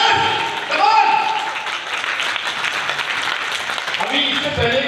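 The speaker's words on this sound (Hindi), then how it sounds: "इसके लिए एक बार जोरदार तालियां सभी के लिए हो जाए।" Audience clapping at a business pre-launch event in Ghaziabad, a steady moderate wash of applause mixed with voices and some tonal sounds over it.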